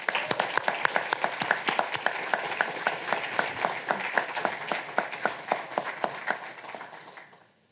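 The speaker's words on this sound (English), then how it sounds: "Let's give a round of applause for Mrs." A banquet audience gives a warm round of applause, a dense, even patter of many hands that holds steady and then tapers off into silence at the end.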